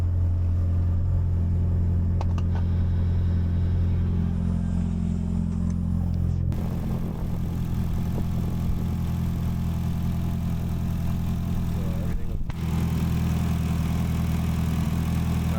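A Mitsubishi Evo engine idling after its cylinder head was refitted, a steady low rumble close by with a brief shift in tone partway through, continuing evenly without talk.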